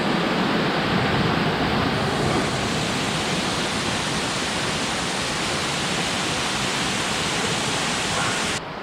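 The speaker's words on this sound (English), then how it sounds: "we tracked down 1 mile to get to Long Creek Falls" Long Creek Falls near Blue Ridge, Georgia, gives off a dense, steady roar of falling water. The rush is loud and close, with no voices over it.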